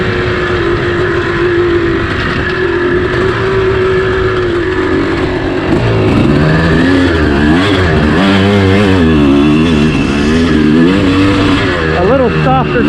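Dirt bike with a 12 tooth front sprocket riding a singletrack loop, engine droning steadily then revving and surging up and down through the gears, loud and close, with a voice talking over it.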